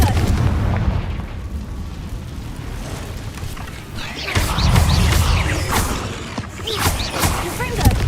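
Confringo blasting spell explosions in the Hogwarts Legacy video game, several booming blasts with crackling debris echoing through a cave, loud over a low rumbling game soundtrack.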